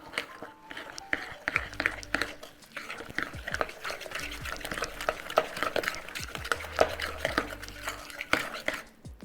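White sugar being stirred into a chocolate cookie mixture in a bowl, giving repeated scraping and clinking strokes of a utensil against the bowl, close and fairly steady, with low muffled thumps underneath.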